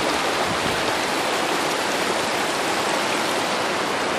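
River water flows in a steady, close rushing wash that never lets up, with no voices over it.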